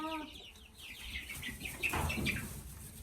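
Farm chickens cluck and chirp nearby in soft, irregular bursts, a few overlapping calls with faint rustling underneath, quiet overall.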